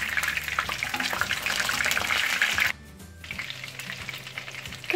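Fish such as mackerel, sardines or anchovies sizzle steadily in oil in a frying pan, close and continuous, with a brief quieter gap as the pieces are turned and the crackling then resumes.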